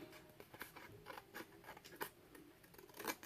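Scissors fussy cutting small paper pieces for a mini album tag, a quiet run of soft snips and paper scratches repeating at an uneven pace, close by with no talking.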